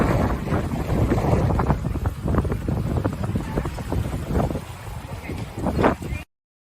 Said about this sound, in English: this was a windy day.